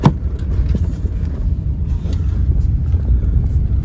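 A car engine labours up a steep road in first gear, a steady low rumble that stays loud and close throughout, with no voices over it.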